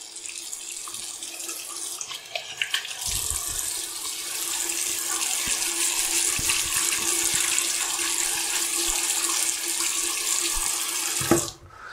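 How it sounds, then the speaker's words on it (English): Warm tap water runs steadily into a sink for several seconds in a continuous gushing stream, then cuts off abruptly near the end. "I'm going to get some warm water going."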